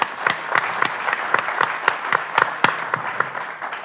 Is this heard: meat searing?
no